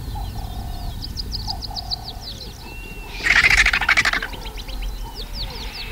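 Vultures squabble over a carcass, with a loud burst of harsh hissing and rattling calls in the middle, and sharp chirps and squeals before and after over steady outdoor background noise.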